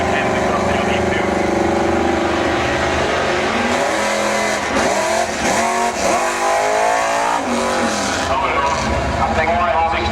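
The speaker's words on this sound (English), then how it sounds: "He was playing with the throttle there and trying to select gears, I believe, and the car wouldn't upshift to another gear" Drag racing car, a Holden Commodore, revving hard at the start line with the throttle blipped repeatedly while the gearbox refuses to upshift, loud and close amid crowd noise and ongoing commentary.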